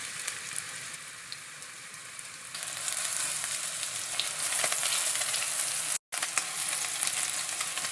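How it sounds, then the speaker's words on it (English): Meatballs for albóndigas in chile colorado sear in a hot pan with a continuous loud sizzle that swells and intensifies partway through, cut by a brief moment of silence before the frying resumes. "pan is nice and hot, although it's going to start acting up right now, you're going to start placing your meatballs."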